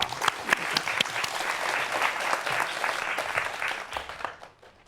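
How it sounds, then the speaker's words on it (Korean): An audience breaks into steady applause as a professor is introduced to speak about robots and the future, the clapping dense and continuous before tapering off in the final second. "박수 부탁드리겠습니다"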